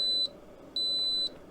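An Instant Pot Duo Mini electric pressure cooker gives two clear, high-pitched electronic beeps from a button press turning off keep warm, the second longer than the first, close and alone over faint room hum.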